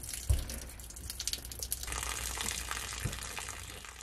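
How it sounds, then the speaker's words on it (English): Water gushes and splashes out of a motorhome hot water tank after its drain lever is lifted, a faint continuous rush with a couple of soft knocks and no talk. "I'll just lift it up and that'll dump all the water out the hot water tank."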